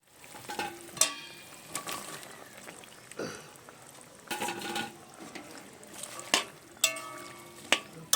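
Helencha greens simmering in a curry are stirred in a pan, giving scattered scraping and clinking spoon strokes over a soft bubbling sizzle, with sharper knocks now and then.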